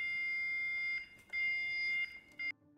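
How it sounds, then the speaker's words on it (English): Quiet electronic fire alarm or drill signal in a building, sounding as steady high-pitched tones in a few bursts with short breaks, fairly faint and with no talk over it. "It's a fire alarm, or a fire drill."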